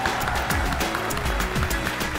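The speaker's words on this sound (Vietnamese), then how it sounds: "Một tràng pháo tay dành cho họ." A short burst of audience clapping, fairly loud and steady throughout, with a few heavier thumps underneath.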